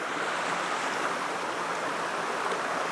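Watui Falls waterfall heard from a distance as a steady, dense roar of rushing water, broad and unbroken throughout with no voices.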